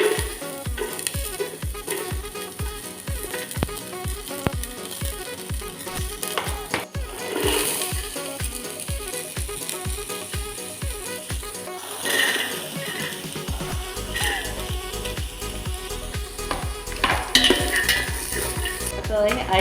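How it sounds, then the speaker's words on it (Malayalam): Vegetables for a veg pulao fry in hot oil and ghee, a steady loud sizzle with regular rhythmic scrapes of stirring at first, then continuous frying with clatter of utensils in a pan. "എണ്ണയും നെയ്യും ചൂടായതിനു ശേഷം ഓരോ വെജിറ്റബിളായിട്ട് ഇട്ട് കൊടുക്കുക."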